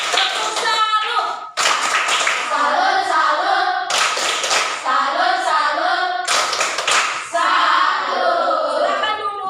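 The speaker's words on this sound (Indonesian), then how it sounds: "Tepuk tangan buat kelompok 2." A classroom group applauds another group in rhythmic rounds of clapping, several bursts separated by brief pauses, with voices chanting along over the claps.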